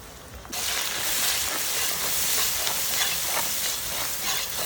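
Onions fry in a pan with salt and turmeric; after a quiet half-second start, a loud, close, hissing sizzle bursts in and holds steady, with faint stirring and no talk.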